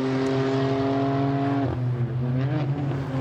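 A Porsche flat-six GT4 race car engine at Brands Hatch drones loudly and steadily with a strong tonal whine, its pitch dipping briefly then climbing again as it shifts and accelerates.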